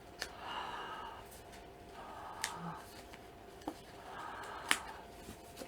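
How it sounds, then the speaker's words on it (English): Someone breathes on a mold to release it: several soft, airy exhales come in slow pulses, each one quiet and drawn out, with faint clicks and a light rustle between them. "So I can go ahead and release this by breathing on it."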